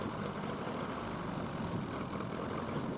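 A steam tractor engine runs steadily at a ploughing match, giving a constant, close, broadband mechanical chugging roar with no pauses and no talk.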